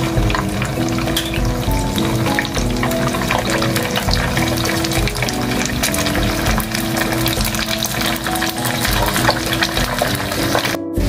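Sliced pempek fish cakes fry in hot oil, a loud, dense, continuous sizzle and crackle heard up close without any talking.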